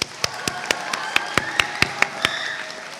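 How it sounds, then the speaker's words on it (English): Scattered, fairly faint applause from a high school graduation audience, with about a dozen sharp, evenly spaced claps standing out over a soft background murmur. "Another round of applause for him"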